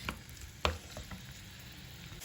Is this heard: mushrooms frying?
yes